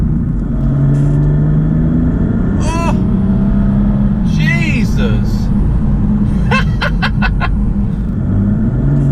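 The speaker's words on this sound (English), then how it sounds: "There's the kick down. You can feel that torque." A Mercedes CLK320 with a 301 bhp hybrid turbo conversion kicks down under acceleration, its engine a loud, constant low rumble heard from inside the car while a man exclaims over it.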